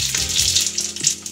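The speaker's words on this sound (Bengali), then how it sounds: "শুক্তোটা রান্না করার জন্য আমি কড়াইতে সাদা তেল দিয়ে গরম করে নিয়েছি। এখন ফোড়নটা দিয়ে" Tempering spices sizzle and fry in hot white oil in a wok, a bright crackling hiss that is loud and close with faint stirring, and nobody speaks.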